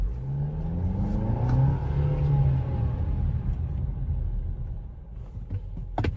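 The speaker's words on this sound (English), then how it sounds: "just kind of floor it just to kind of show you where we're at" A 2024 Jeep Compass engine is floored from a stop, its low rumble swelling into a rising rev that holds and then eases off, heard from inside the car.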